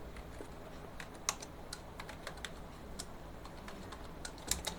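Typing CSS padding code on a computer keyboard: soft, irregular key taps with a few sharper strikes over faint background hiss, no voices.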